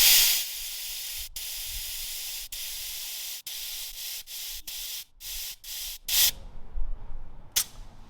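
Air hisses out of an electric car's tire valve as pressure is let down from 53 psi, first as one long steady spray, then as a run of shorter broken bursts.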